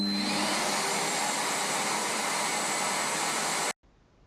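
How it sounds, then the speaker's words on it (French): A handheld vacuum cleaner with an ergonomic handle runs its suction as a loud, steady broadband whoosh, then cuts off abruptly near the end, leaving quiet. "Pour allumer ou éteindre l'aspiration, appuyez sur ce bouton."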